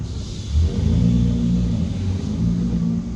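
A yellow 2016 Porsche 981 Cayman GT4 pulls away with a steady low engine rumble that swells as it drives off, fairly close and loud, with no talking over it.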